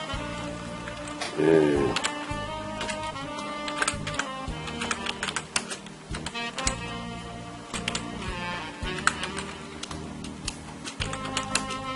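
Rapid clicking of a computer keyboard as a search is typed into Google Maps, irregular bursts of close keystrokes with brief pauses, with a voice heard faintly early on.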